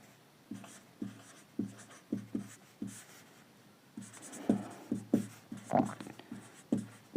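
A pen scratching out a trigonometry solution on paper, with short rhythmic strokes and taps that turn quicker and louder midway, close and fairly quiet.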